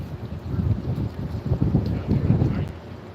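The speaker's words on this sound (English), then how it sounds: "the wind's picking up here quite a bit, but it's not cold" Wind picks up outdoors on a night in Seattle, gusting in low, uneven rumbles against the microphone that swell and ease for a few seconds.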